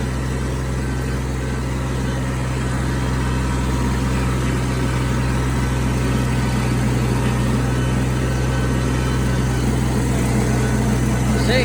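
John Deere compact 750 tractor bush hogging a field, its engine droning steadily at a low, even pitch throughout, with someone talking over it at times.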